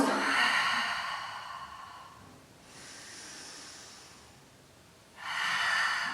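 Long breaths during a beginner Pilates exercise: a forceful airy exhale, a softer drawn breath, then another strong exhale, close to the microphone, with no speech.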